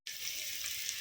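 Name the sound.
onions frying in pan for bagara rice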